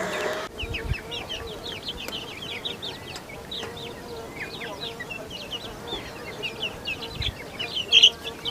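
Chicks and hens on a farm keep up a busy run of high peeps and soft clucks, with insect buzz and low rustling in the background.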